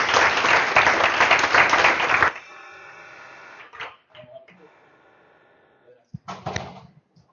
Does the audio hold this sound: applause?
yes